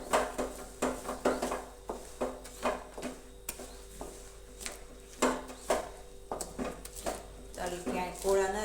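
Sesame seeds being stirred into hot sugar syrup for sesame chikki with the gas off, giving repeated scraping and clacking strokes in a steady rhythm under a voice talking.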